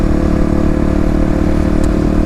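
An EFI Kawasaki KLX351 dirt bike engine close up, loud steady throbbing exhaust note with a mechanical clatter, running continuously without speech.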